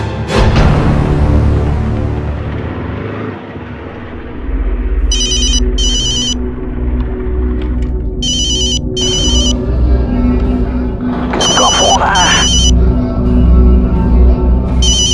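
A phone ringtone chimes in repeated short bursts over a loud, steady background hum, fairly close and clear.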